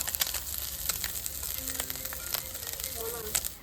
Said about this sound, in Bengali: তো এখন দিয়ে দেবো চচ্চড়ির জন্য শুকনো লঙ্কা আর সর্ষে ফোড়ন